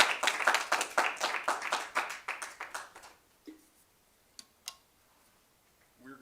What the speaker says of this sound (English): let us definitely have some applause here.